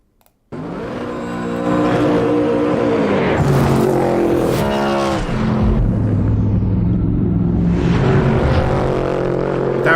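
A car engine starts and revs hard with a deep, throaty baritone note, loud and close, rising and falling through several sustained revs with no voices over it.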